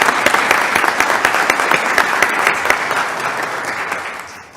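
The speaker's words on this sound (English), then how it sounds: "I'm going to give you a round of applause." A room full of people applauds Bill, who helped bring a course to North Carolina, with loud, dense clapping that starts strong and gradually tapers off toward the end.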